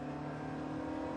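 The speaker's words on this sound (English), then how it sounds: "There's a fair bit of period turbo lag," Turbocharged car engine with period turbo lag in The Grand Tour racing game, a brief steady engine drone at moderate distance, humming evenly without clear revving.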